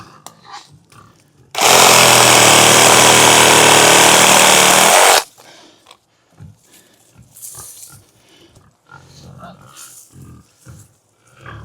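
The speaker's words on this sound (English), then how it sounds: "we're gonna grab the sawzall." A Sawzall reciprocating saw roars loudly for about four seconds while cutting during a budget pigpen build, followed by quieter rustling, knocks and pig grunts.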